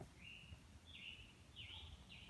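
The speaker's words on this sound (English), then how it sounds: "So you hear the birds chirping." Birds chirp in woodland on a hot day, a few thin repeated high calls spaced about half a second apart, faint and distant over a steady low outdoor hum.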